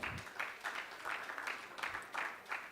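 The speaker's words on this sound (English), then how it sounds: "Can you clap for ourselves, first of all?" Audience applause at a media talks event, a fairly faint, steady patter of clapping from a small crowd lasting a few seconds with no voices over it.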